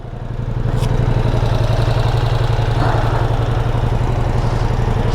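A Ducati Multistrada V4S, a premium four-cylinder motorcycle, idles steadily and close by, its low, even engine throb holding constant throughout with no talk over it.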